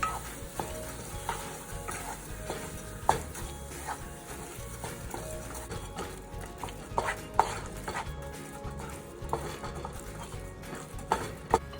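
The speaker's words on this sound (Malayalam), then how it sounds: "നമുക്ക് ഇതിലേക്ക് നമ്മുടെ മഷ്ഡ് വെജിറ്റബിൾസ് ആഡ് ചെയ്യാം, മിക്സ് ചെയ്യാം." Mashed vegetables for pav bhaji are stirred in a hot pan, giving a continuous frying sizzle with repeated scraping and knocking of the spoon against the pan.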